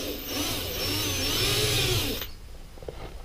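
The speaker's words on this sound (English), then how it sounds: "So first we drill a hole to start with." A power drill bores loudly and steadily into a bus body during a conversion into a tiny home, whining for about two seconds before cutting off abruptly into quiet room noise.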